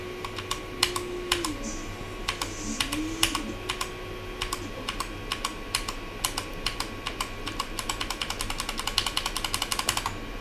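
Rapid computer keyboard key presses, sharp clicks tapping along in irregular bursts that quicken toward the end, over a steady low hum and a faint tonal whine, with no talking.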